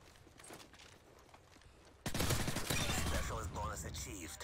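A sniper rifle shot fired mid-jump in an online shooter video game: after quieter background ambience, a sudden loud crack bursts in about halfway through, followed by sustained noisy clatter and rumble that stays loud to the end.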